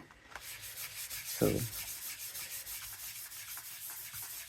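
Sizzix oil pastel colors are rubbed onto paper with a steady, soft dry scrubbing close by, a continuous papery friction with one brief louder thump early on and no talk.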